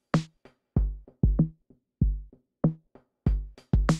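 Live-coded Tidal Cycles music: short plucked synth notes in a bouncy, irregular rhythm, each decaying quickly, with a filter gradually sweeping the tone brighter and darker along a sine wave, quiet and alone.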